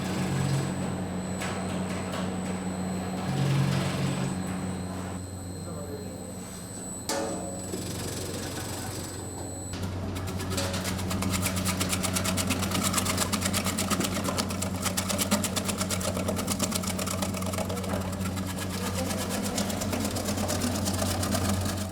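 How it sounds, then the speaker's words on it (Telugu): A vegetable-cutting machine slices okra in a food factory, giving a steady mechanical whir and hum that runs the whole time and grows busier partway through, alone with no talk. "బెండకాయలు మెషిన్ ద్వారా కట్ చేశారు."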